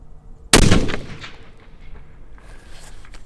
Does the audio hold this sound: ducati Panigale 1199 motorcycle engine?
no